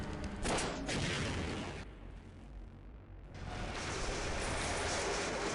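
Loud, heavy rocket launcher blasts from the Half-Life game, a dense broadband roar of explosions with a brief dip partway through before the booming resumes, no voices.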